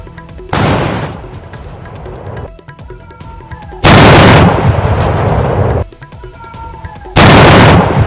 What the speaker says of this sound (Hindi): ये देखिए, इतना तेज धमाका था